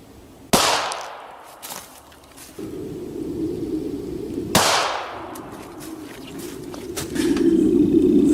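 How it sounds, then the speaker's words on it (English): Two sharp, loud shots from a Steyr 9mm pistol fired into clear ballistic gel, about four seconds apart, each followed by a short echoing tail over a steady low hum. "Okay, here's the Steyr shot."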